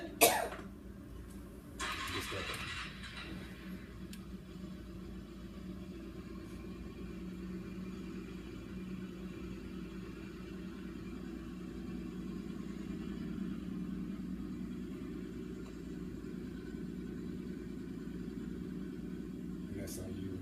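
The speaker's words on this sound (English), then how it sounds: "That's how you start motorcycle." A motorcycle engine turns over with a sharp start, then settles into a steady low idle that continues evenly, with a brief cough-like noise early on.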